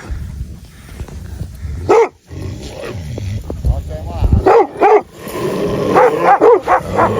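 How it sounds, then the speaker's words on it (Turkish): Sheepdogs bark in loud, close bursts near a flock of sheep, several sharp barks and yips scattered through, with whining and a person's voice mixed in. "Ha, bakın o köpek."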